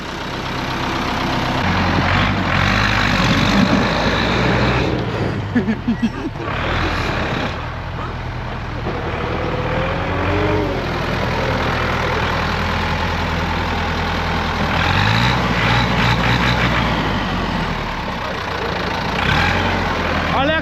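An overhauled Ursus C-360 tractor runs with a steady, close, loud engine rumble that rises and dips through the clip, while people talk nearby.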